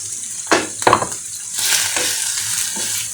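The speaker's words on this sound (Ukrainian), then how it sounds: "Все, зараз підсмажимо цибулю, щоб вона була така прозора, гарна." Chopped onions sizzle in oil in a frying pan, with a couple of close utensil scrapes and stirs followed by a steady, bright frying hiss, loud and near, with no talking.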